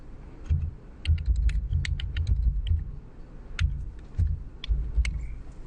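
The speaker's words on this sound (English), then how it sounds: "and then I could type." Fingers type on a computer keyboard in quick irregular bursts of close clicks and taps, pausing briefly between runs, over a low background hum.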